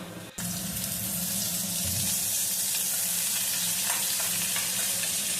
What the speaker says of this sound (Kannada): ಸ್ವಲ್ಪ ಈರುಳ್ಳಿ, ಕರ್ಬೇವಿನ ಸೊಪ್ಪನ್ನು ಕೂಡ ಫ್ರೈ ಮಾಡ್ಕೊಳ್ಳೋಣ